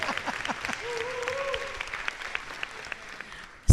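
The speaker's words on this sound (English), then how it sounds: "can I get some applause for her?" Brief applause on a state House floor during a legislative session, moderate and fairly close, with faint voices mixed in and a sharp knock at the very end.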